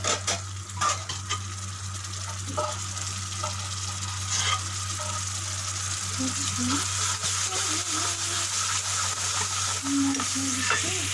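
Cooked lentils (dal) are stirred into softened tomatoes in a pot, giving a steady soft sizzle with repeated scraping and stirring scrapes throughout.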